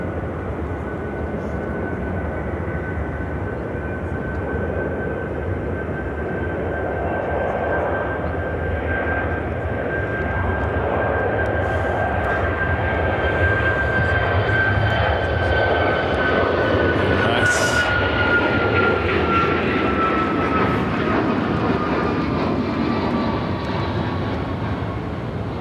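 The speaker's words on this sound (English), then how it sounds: "This is Kaleta Air 961 coming in from Anchorage." A Kalitta Air jet on flight 961 from Anchorage arrives at Chicago O'Hare. A broad, steady jet roar carries a sustained whining tone and slowly swells in loudness before easing slightly.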